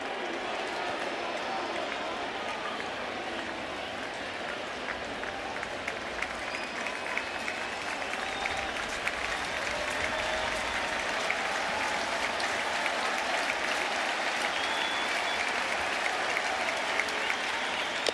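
Sustained roar of a standing baseball crowd at an Angels vs Yankees game, steady cheering and clapping with scattered whistles for the whole stretch, a commentator's voice faint beneath it.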